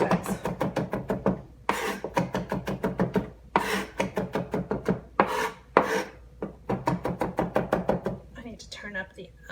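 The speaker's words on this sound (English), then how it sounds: "We want to get it pretty small. So knife down, hand on the end, and we're going to run through it a bunch of times." Knife chopping garlic on a wooden cutting board, rapid repeated taps in quick bursts with short pauses between runs, close and clear.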